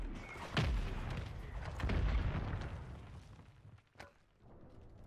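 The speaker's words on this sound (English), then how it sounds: "I just got broke by a mortar." Mortar explosions in the Call of Duty Warzone video game on Rebirth Island, a couple of deep booming blasts at moderate distance with rumbling tails, the last one shorter and sharper.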